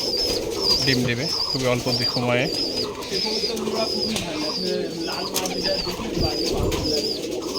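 Giribaz pigeons in a courtyard loft give low, repeated coos close by, while someone talks over them for much of the stretch.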